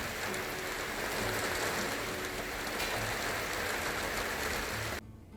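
Steady rain falls, a dense, even hiss of drops on surfaces at moderate level, continuous for about five seconds before cutting abruptly to near silence.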